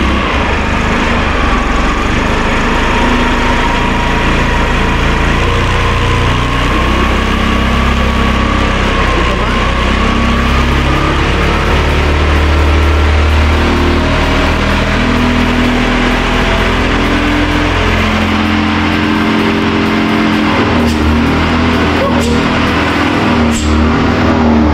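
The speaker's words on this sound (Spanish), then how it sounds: "Vamos a echarla a andar para ver si podemos ir acelerándole gradualmente y ver si sigue echando humo negro." An Italika TRN-150 motorcycle engine with a spark fault runs loud and close for the whole stretch, its steady drone rising gradually as the throttle is opened, with voices talking over it.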